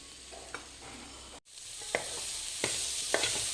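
Chopped tomato and capsicum frying in a pan for a soybean gravy, a quiet sizzle broken by a handful of spatula strokes at irregular intervals, close up with no voices.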